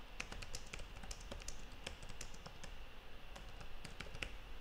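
Quiet, close keyboard typing in quick irregular bursts of light clicks, steady over a soft background hiss, with no talking.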